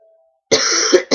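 A single close, harsh cough with a quick second burst right after, loud and abrupt following a moment of quiet.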